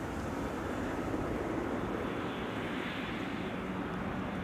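A Boeing 747 taxiing slowly at Schiphol airport gives a steady, broad jet engine rumble that holds at an even level from a moderate distance, with no voices.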